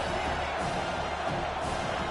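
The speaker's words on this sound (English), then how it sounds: "Decibels rising as the crowd gets behind this defense on 3rd down." A football stadium crowd roars on third down as the home fans back the defense, a steady, distant wall of cheering noise with no clear breaks.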